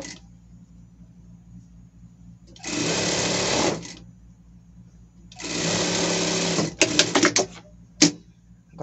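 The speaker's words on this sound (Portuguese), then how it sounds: "passar uma costura de fora a fora" A sewing machine runs in two steady bursts of about a second each as it stitches fabric edge to edge for a summer pet outfit. The whirring is close and clear, followed by a few short clicks and stops.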